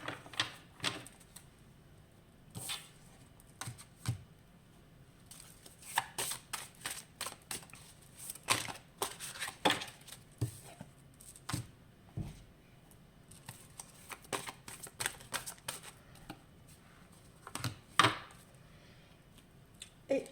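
Tarot cards are laid out and shuffled in a series of soft, papery slaps, flicks and clicks that come in irregular bursts over about twenty seconds, quiet and close, with no voice over them.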